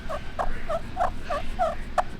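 Turkey clucks worked on a call with a striker, seven short sharp clucks in an even rhythm, close and clear over a faint background hiss.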